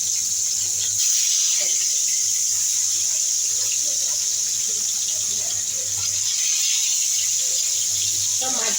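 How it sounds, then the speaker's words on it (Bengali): Pieces of katla fish fry in hot mustard oil with a steady, loud, close sizzling hiss that holds unbroken throughout. "এবার সেই সর্ষের তেলটায় আমি মাছগুলো ভেজে নিচ্ছি।"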